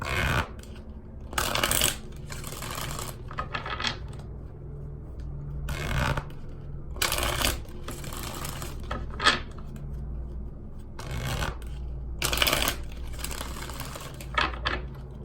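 An oracle card deck, the Chakra Wisdom set, being shuffled by hand in repeated bursts of riffling and sliding cards. The bursts are close, brisk and irregular, and no one talks.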